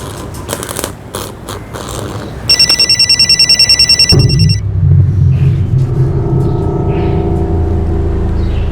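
A landline telephone bell rings loudly in a rapid burst of repeated trills, in a tense police crime-drama scene, then cuts to a low rumbling room tone.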